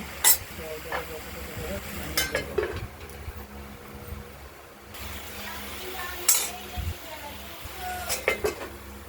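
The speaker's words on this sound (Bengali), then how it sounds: "আমরা লাউটাকে নেড়ে চেড়ে দিলাম একটু" Diced bottle gourd is stirred in a cooking pan, with metal spoon scrapes and clinks coming in bursts over a faint hiss of steam and sizzle, while a voice speaks at times.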